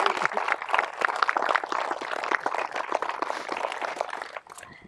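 Wedding guests applaud the parents and grandparents with a close, lively burst of scattered clapping that carries on for several seconds before tapering off.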